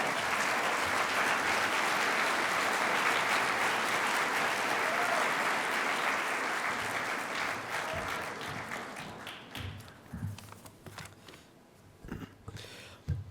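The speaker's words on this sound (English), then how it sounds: "let's give him an extra round of applause" An audience at a freethought convention gives a long, loud round of applause that holds steady and then tapers into scattered claps.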